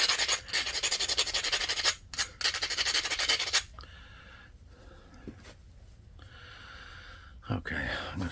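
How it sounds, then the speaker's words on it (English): An abrader rubs back and forth across the edge of a novaculite flake during flintknapping, a rapid, close, gritty scraping in quick strokes for a few seconds, then fainter scratches before a final brief rasp. "this is a really great abrader"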